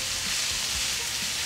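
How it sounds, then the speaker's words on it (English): Artichoke hearts sizzle and crackle steadily in a hot pan while being stirred through to warm, a close, continuous frying hiss with a few soft low knocks from the stirring. "Ooh, get a nice sizzle."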